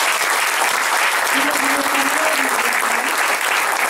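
An audience at a book presentation breaks into loud, continuous applause, dense clapping filling the room throughout, with a faint voice briefly audible underneath.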